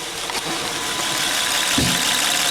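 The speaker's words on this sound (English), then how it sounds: "as you can see, the engine is nice now. It's no more shaking, no more misfires" A Honda Pilot engine idles after a misfire repair, giving a steady, even mechanical hum throughout with no shaking or stumbling and a faint click or two near the start.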